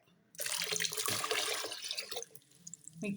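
Dissolved sodium sulfate solution being poured into a homemade liquid laundry detergent mixture, a steady splashing liquid stream that runs for about two seconds, then thins out and ends with a few drips, with no talk.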